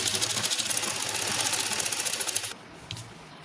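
A sewing machine stitching a salwar seam along buckram, a fast rhythmic needle clatter close up for about two and a half seconds, then stopping abruptly with a faint tap afterward.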